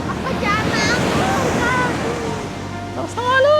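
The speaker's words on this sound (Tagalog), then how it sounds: "Lakas ng alon!" Strong Pacific Ocean waves roar and wash continuously nearby at a tidal pool in Casiguran, Aurora, Philippines, while a person exclaims over the noise in Filipino, more voices rising near the end.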